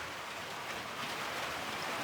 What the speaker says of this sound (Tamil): இப்ப போ மழை அதிகமா பெய்யுது